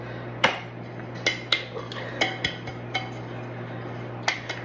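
A metal bundt cake pan dusted with cocoa powder is tilted and knocked about, giving about a dozen close, irregular metallic taps and clinks over a steady low hum.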